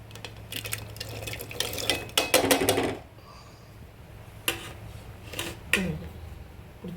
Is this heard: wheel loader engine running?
no